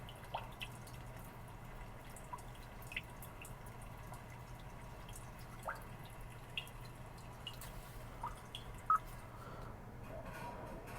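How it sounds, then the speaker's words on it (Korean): Steady rain ambience played back as a built-in nature sound in a Kia K7 Premier Hybrid, with scattered drips and light patters landing irregularly over a soft continuous hiss, quiet and without voices. "비 오는 하루 소리입니다"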